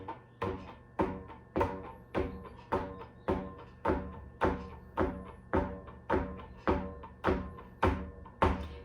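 A homemade bass drum made from a container with elastic stretched around the back, struck in a steady beat of about sixteen solid, booming thuds, evenly spaced and close up, with no talking.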